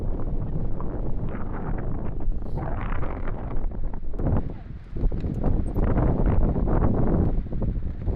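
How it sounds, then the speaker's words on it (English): Strong wind roars and buffets across a swaying bridge on a bikepacking trail, a loud, steady rush with gusty swells that dip briefly midway before surging again. "The wind is making the bridge move quite a bit."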